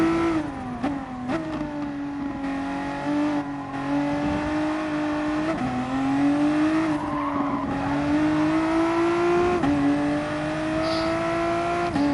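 A VW Supersport race car lapping the Nürburgring GP circuit, its engine loud and close as it revs up through the gears, with brief lifts off the throttle between pulls and a steady, strained drone.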